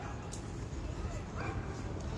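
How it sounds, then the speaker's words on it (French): Small mixed-breed dog yipping and barking a few times outdoors, short sharp calls standing out over steady background noise and people talking. "On dirait un chien RIDV. Petit chien bâtard là."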